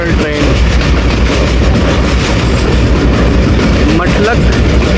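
The 2 Down Shuttle passenger train rolls steadily along, a loud continuous rumble with faint clickety-clack of wheels over rail joints throughout.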